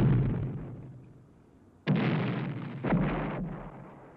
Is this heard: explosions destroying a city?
yes